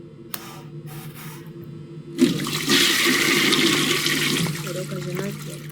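A toilet flushes in the Shrek's Hotel video game: a sudden gush at about two seconds rises into a steady, close rushing of water that holds for several seconds before easing off, following some light clicks.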